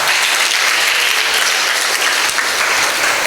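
A church congregation at a Sunday service claps together in loud, dense, continuous applause, steady from start to end with no pauses.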